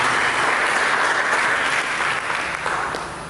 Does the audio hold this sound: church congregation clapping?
yes